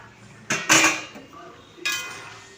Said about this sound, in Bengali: এবার আমি ভেজে রাখা মাছগুলো সব ঝোলের মধ্যে দিয়ে দেব